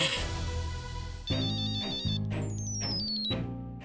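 A melodic electronic ringtone plays in a continuous, tinny loop, with its tune rising and falling.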